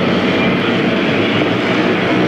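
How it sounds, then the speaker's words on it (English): A cold speedway motorcycle engine, not yet warmed up, runs rough at the 1987 Ullevi Open in Gothenburg, a loud continuous broadband roar with no pauses. "he hasn't warmed it up really. So that's why it sounds so bad. It's a cold engine."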